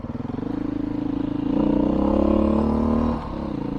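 A Beta 500 dirt bike engine labours loud and close while riding through mud, its steady rumble rising in a stronger pull mid-way, then easing, with faint clattering and scraping mixed in.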